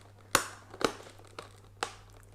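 Plastic wrap tears and crinkles on a boxed Papalook HD 1080p webcam in a few sharp, separate bursts, close and fairly quiet.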